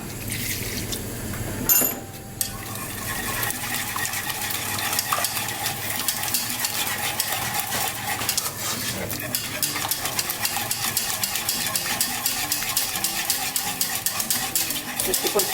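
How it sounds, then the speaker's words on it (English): Flour and milk cooking into a sauce for mac and cheese, stirred continuously in a pot over the fire, with steady scraping and a bubbling sizzle. A sharp clink near the start, then the scraping continues close up and fairly busy. "Just keep on stirring because we want to cook that flour"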